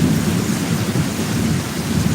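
Heavy rain pours steadily through a thunderstorm on a road ride, with a deep continuous rumble of thunder filling the background for the whole stretch, loud and unbroken, no voices.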